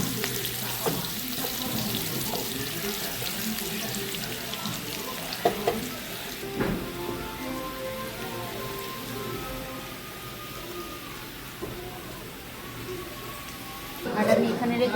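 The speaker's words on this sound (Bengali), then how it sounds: "এবার এটা একটু ভেজে নেব লাল লাল করে।" Half-boiled potatoes fry in hot oil with a steady, broad sizzle that runs throughout, joined by occasional clatters and a louder burst near the end; speech is faintly present in the background.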